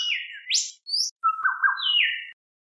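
Whistler, an Australian songbird, gives a rich run of clear whistled notes that sweep up and down, a few quick phrases followed by a longer falling whistle, heard alone and close.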